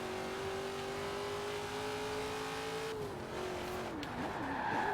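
A big American muscle car in a racing video game drones with a steady engine note, then the pitch dips and the tires squeal and skid as it brakes into a corner, loud and continuous with no voices.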